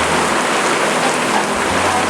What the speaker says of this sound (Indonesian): Lagi hujan di kota Bogor